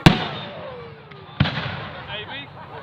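Cherub fireworks launch at a bonfire night display at Booths Hall, two sharp loud bangs about a second apart, each followed by fizzing crackle and a whistling trail at moderate distance.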